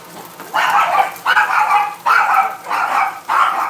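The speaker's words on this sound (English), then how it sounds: "There's my dogs." Several dogs bark in a home kitchen during cooking, with four or five loud, close bursts of barking coming in a steady rhythm and short quiet gaps between them.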